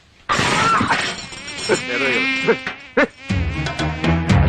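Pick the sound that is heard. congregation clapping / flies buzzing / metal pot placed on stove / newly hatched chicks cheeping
flies buzzing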